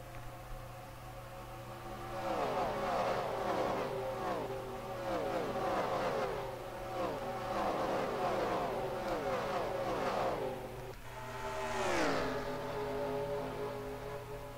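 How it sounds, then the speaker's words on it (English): Race cars in the Hardee's 300 at Darlington scream past heading into turn four, a pack of engines rising and falling in pitch as they fly by, with another loud pass near the end over steady crowd-like background noise. "Cool little flyby there as the cars were heading into turn number 4."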